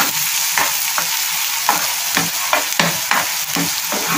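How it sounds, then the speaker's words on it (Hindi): Sliced onions fry lightly in oil in a pan with a steady, close sizzle, and a spoon stirring through them scrapes and clatters at irregular intervals. "अब इसमें प्याज डाल दें। इसको हल्का सा फ्राई करना है"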